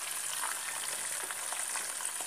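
Homemade French fries fry in oil in a saucepan, a steady close hiss and crackle of bubbling with faint pops, with no talking.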